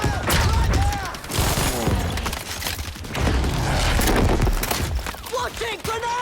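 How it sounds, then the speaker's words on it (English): A grenade launcher firing in a video game, with repeated heavy booming blasts and bursts of gunfire in a loud, busy battle mix, as voices shout over it. "Launching grenade!"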